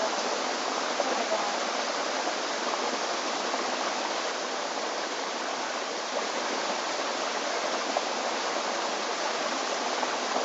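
Falls and rapids on a river in wild Crown Land roar in a steady, dense, unbroken rush of water, loud and close, with no voices.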